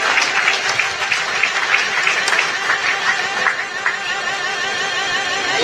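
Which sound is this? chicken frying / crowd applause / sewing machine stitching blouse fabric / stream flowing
crowd applause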